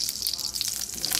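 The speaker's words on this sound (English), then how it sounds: "you almost fucking killed us all with exploding grease balls" Hot oil sizzles and crackles steadily in a frying pan while Brussels sprouts cook, with bright spattering pops throughout and faint voices in the background.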